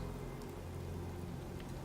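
Steady rain falls in Fallout 4 after a weather-change rain shell is triggered, a continuous soft hiss with no clear drops.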